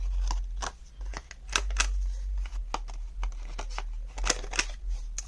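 A 1/4 inch corner rounder punch rounds the edges of paper tags, giving a series of sharp, close clicks and snips spaced irregularly over low background hum.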